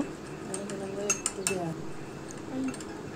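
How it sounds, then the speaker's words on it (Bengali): A spoon clinks against a bowl a few times while stirring soy sauce mixtures, light metallic taps over a low background hum. "দুইটা মিশ্রণকে আমি খুব ভালোভাবে চামচ দিয়ে নেড়ে নিব"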